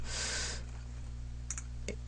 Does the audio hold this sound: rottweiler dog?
no